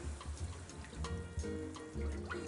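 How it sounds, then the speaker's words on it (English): Beef stock poured into a pot of caramelized onions for onion soup, a steady close liquid splashing and trickling with small bursts, no talking. "And we're going to add beef stock"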